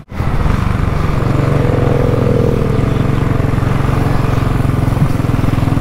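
CAFE400 motorcycle engine cruising on an expressway during a Baguio ride, a loud, steady droning hum with constant wind rush that holds even throughout.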